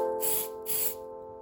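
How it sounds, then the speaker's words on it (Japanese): Alteco spray primer is sprayed to harden wood glue during a small surface repair, giving two short hissing bursts from the can over a steady background hum. "アルテコスプレープライマーでボンドを固めます。"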